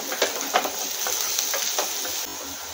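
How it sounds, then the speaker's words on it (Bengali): Onions and chicken sizzle in a pan for momos, a close, steady frying hiss broken by several sharp stirring scrapes. "পেঁয়াজটা হালকা ভাজা হয়ে গেছে, খুব একটা লাল করে ভাজবো না।"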